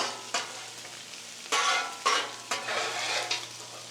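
Bacon and onions frying in bacon fat in a pan, with a steady close sizzle broken by several bursts of stirring and scraping against the pan, no talking.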